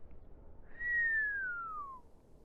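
A single low, clear whistle glides gently downward over about a second, soft and close against near silence.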